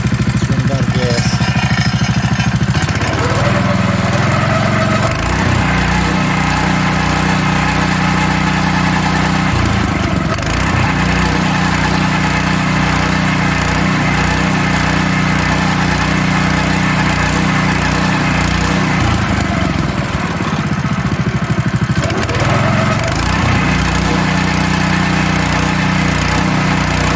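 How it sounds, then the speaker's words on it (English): Engine of an E-Z Trencher EZ-9100 ground saw, running low on fuel, with loose pinned parts rattling, a loud, steady droning idle with surging and dips in speed, heard throughout without talk. "Imagine that rattling sound is just one of the teeth in there."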